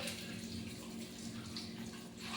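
Raw chicken liver, about 400 grams, rinsed under a running tap, giving a steady, even rush of water that holds at a constant level throughout with no talking.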